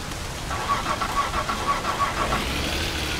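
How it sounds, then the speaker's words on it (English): A car at night in the rain in the game My Summer Car, a steady engine drone with a faint rhythmic ticking tone over a constant hiss of rain, moderately loud and without speech. "it's nighttime, it's raining, let's tow a car"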